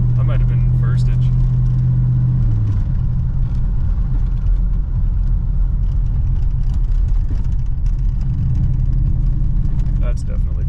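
A 1966 Pontiac Grand Prix barn find held in first gear gives off a steady, close engine rumble with a constant low hum. Someone talks over it throughout.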